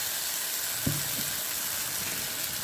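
Mustard seeds and dried red chilies sizzling in hot oil, a steady hiss of frying with a couple of soft pops and crackles, moderately loud and without talk.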